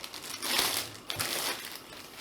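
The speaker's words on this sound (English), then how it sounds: "You'll see that there is another protective plastic bag in the inside." Protective plastic bag crinkling while a diamond art canvas is unboxed, a close, fairly quiet run of crackly rustles with two brief louder crunches, no talking.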